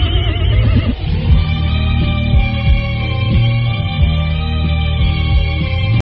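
A horse neighs in a radio drama, a loud, close, drawn-out whinny with wavering harmonic cries lasting several seconds before ending abruptly.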